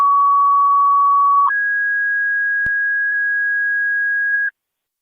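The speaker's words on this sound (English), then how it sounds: "Niagara County Fire Control to Frontier, second set of tones for EMS call" Two-tone fire dispatch alert for an EMS call from a county fire control radio: a loud steady lower tone for about a second and a half, then a higher sustained tone for three seconds, ending abruptly.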